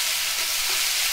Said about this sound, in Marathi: काय चरचरीत आवाज येता म्हणून भिया सारखा नाही